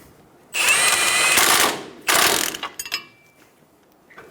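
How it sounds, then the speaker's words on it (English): A ratchet snugs down the upper ball joint nut on a 2005-2010 Toyota Tacoma front suspension, two quick close bursts of rapid clicking followed by a few scattered metallic clicks. "Snug down the nut."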